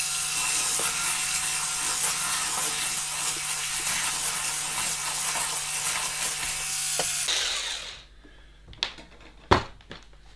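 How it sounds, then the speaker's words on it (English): Yoghurt culture being whisked into milk in a stainless steel bowl: a steady, close whirring scrape that runs for several seconds, then stops and leaves a few light clinks. "it's going to get whisked, because I want that culture going all through the milk"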